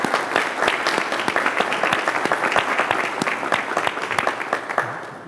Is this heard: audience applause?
yes